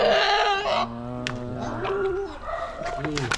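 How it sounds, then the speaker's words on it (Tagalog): A goat about to be slaughtered bleats loudly and nearby in wavering cries, overlapped by people talking around it. "Katay ng kambing."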